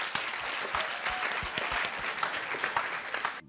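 A roomful of film club spectators at a screening applauds, a dense, even burst of clapping that runs steadily and ends abruptly.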